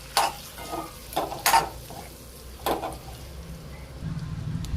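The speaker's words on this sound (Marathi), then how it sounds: "आता आपण फ्राय करून घेऊया अंडे" Boiled eggs fry in oil spiced with red chili powder, turmeric and coriander powder, with a soft sizzle under a few sharp scraping stirs of a spoon that swells slightly at the end.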